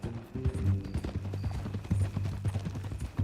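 Horse hooves clip-clop in Red Dead Redemption 2, a steady rhythmic run of close, loud hoofbeats that play alone, without talk.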